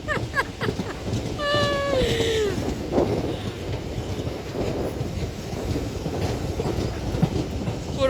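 An old train running on rails, a steady rumbling clatter of wheels throughout, loud and close as if heard from on board, with a brief squealing whine early on and no talking.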